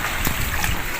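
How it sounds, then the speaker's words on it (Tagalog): Rushing floodwater on a street roars steadily during a typhoon, a dense broadband wash with splashing surges, loud and close, with no voices. "malakas yung agos ng tubig dito ngayon no oh."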